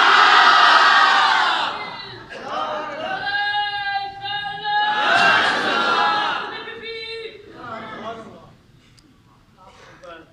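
Worshippers in a Hyderabad mosque chant slogans together at Friday prayers, a loud massed chorus of voices that rises, dips and swells again, with a single voice calling out between the group responses before it fades.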